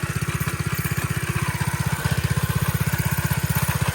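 A vintage mini bike's small pull-start engine with a dry clutch idles close by, loud and steady, its rapid, even firing pulses holding a constant rhythm throughout, with no other sounds.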